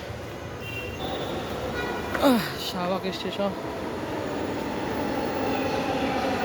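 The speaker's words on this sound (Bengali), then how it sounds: "ও প্রচুর যাতে মতিঝিলগামী ট্রেন আসছে।" A steady, loud rail rumble fills a metro station as a Motijheel-bound train arrives, with a voice announcing briefly over it and a few scraping squeals near the middle.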